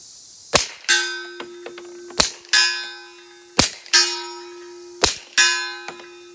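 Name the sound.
suppressed pistol gunshots, Dead Air Mojave 45 suppressor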